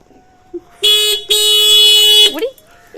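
A repaired toy car horn gives a short buzzing honk, then a longer sustained one, loud and close, with faint voices before and after.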